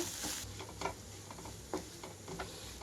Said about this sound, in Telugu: మొత్తం కూడా కారం అంతా కూడా ముక్కల్లో కలిసేలాగా కలుపుకోవాలి